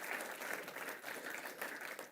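An audience applauds steadily in a dense wash of clapping that stays even and moderately distant throughout, at a community resource center announcement gathering.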